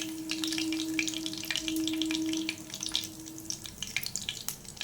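Whole spices, bay leaf and cinnamon, sizzling in hot oil for a Kerala chicken curry, a steady close crackle with a faint hum, no talking.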